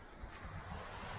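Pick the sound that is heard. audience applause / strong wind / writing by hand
strong wind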